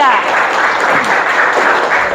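A class claps for group 3 during a lesson, a loud, dense burst of applause up close that holds steady throughout, with no talking.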